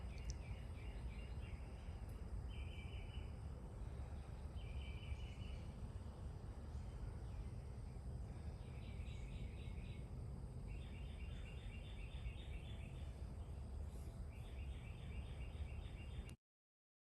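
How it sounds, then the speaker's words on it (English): Faint birds chirping outdoors in repeated short bursts over a steady hiss of background ambience. "You might be able to hear the birds right now."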